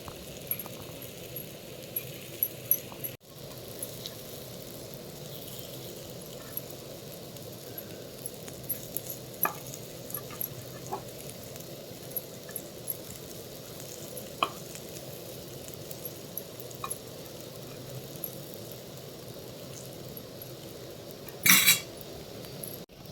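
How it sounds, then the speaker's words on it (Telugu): Brinjal slices fry quietly in a pan with a faint, steady sizzle, broken by occasional light clinks and taps of a utensil and a brief metallic rattle near the end. "ఇప్పుడైతే మనకి అన్ని వంకాయ స్లైసెస్ అయితే వేగిపోయాయి"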